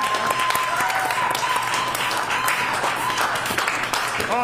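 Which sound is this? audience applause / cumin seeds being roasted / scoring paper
audience applause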